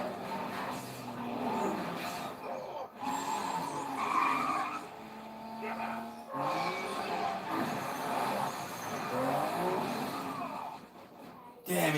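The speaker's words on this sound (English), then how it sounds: "Damn, he crashed it." During a car race, tires squeal and skid through several long screeching passes with engine noise, and people talk over the commotion throughout.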